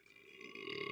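A loud, drawn-out burp that swells in volume across its full second, heard alone with no talking, during a casual group podcast recording.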